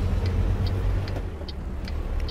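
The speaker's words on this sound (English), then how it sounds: "let the fire truck go by." A fire truck drives past in American Truck Simulator, a low engine rumble of heavy road traffic with a faint regular ticking, steady and close, no talking.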